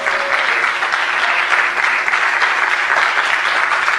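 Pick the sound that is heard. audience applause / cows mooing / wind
audience applause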